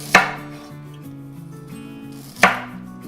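A knife slices carrots thinly on a cutting board for Korean doenjang jjigae. Two sharp, close chops about two seconds apart stand out over quiet tonal background music.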